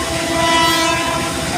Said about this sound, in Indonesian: Kereta api Bukit Serelo tujuan Lubuk Linggau dari Palembang segera memasuki shelter keberangkatan di stasiun Lahat.